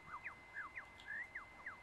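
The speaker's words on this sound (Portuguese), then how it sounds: "Tô ouvindo uns passarinhos cantando," Small birds chirp in a run of short, rising and falling whistled calls, about seven in under two seconds, faint and steady against a quiet background, with no one talking, in the Singapore qualifying session of the racing game F1 2019.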